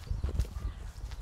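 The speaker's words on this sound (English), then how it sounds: "Oh, we've got the horses in the background." Horses in a fresh green countryside landscape make soft, low clip-clop hoof sounds, faint and distant, in an uneven rhythm without any talking.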